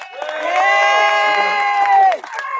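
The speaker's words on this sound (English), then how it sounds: "Round of applause for the speakers thus far" A rally crowd cheers and whoops for its speakers in a loud, sustained, tonal swell lasting about two seconds before cutting off abruptly, with a few voices lingering afterward.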